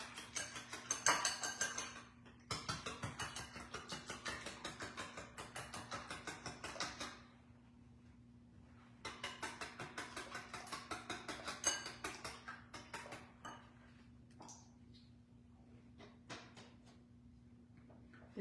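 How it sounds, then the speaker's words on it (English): Brownie batter whisked in a bowl: rapid, steady ticking strokes in two bursts separated by a pause, faint and close, with a low steady hum underneath. "So I'm going to whisk it there."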